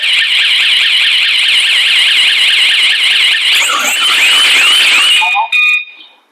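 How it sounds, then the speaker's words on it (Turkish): PGST home alarm siren triggered by an opened door or window sensor, wailing in a fast, loud, warbling cycle up close for about five seconds before cutting off with a few short tones. "bu şekilde alarmlı devreye girer ve bize ilgili kapı ya da pencerenin açıldığına dair uyarı, uyarı yapar"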